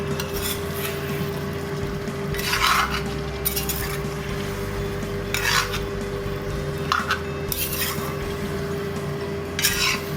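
Duck curry for an Assamese-style dish fries in a pan and is stirred now and then: bursts of scraping and clattering against the pan over a continuous frying hiss and a low steady hum.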